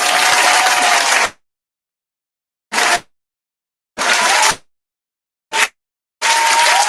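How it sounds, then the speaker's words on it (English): Audience applause and clapping on a podcast set, coming in loud bursts: a long burst, then shorter ones separated by silence, the last one sustained. "Let's clap."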